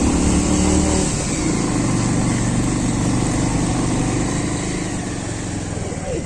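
Vehicle engine running steadily near a Hanuman temple in Jaripur, Khordha, a constant loud drone with a mower-like rattle, close by and filling the whole clip without pause.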